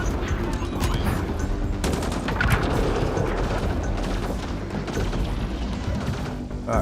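Gunfire in a Mass Effect: Andromeda battle, a loud, continuous stream of shots, crashes and booms layered thickly together, with a voice faintly under the noise.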